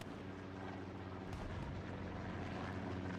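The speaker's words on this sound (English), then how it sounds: "Got a recon plane going over railway crossing." Recon plane passing overhead in the WWII shooter Hell Let Loose, a steady low droning engine rumble holding at an even level throughout, with no talk.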